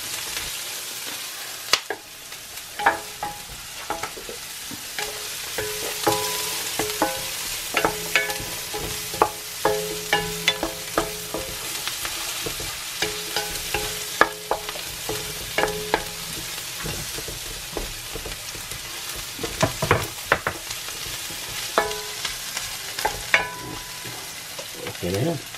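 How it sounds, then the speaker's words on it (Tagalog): Cubes of beef tongue sautéing in a pan for adobo, with a steady broadband sizzle and repeated clacks and scrapes of a utensil stirring against the pan, fairly close and with no talking. "Sama ko na, igigisa ko na tong cubes."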